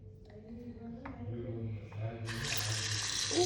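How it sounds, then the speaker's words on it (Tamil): A bathroom tap is opened and water starts running, a faint trickle that swells into a steady hissing flow, while a person speaks over the start. "இப்படி தந்தால் நம்ம தண்ணி வரும்."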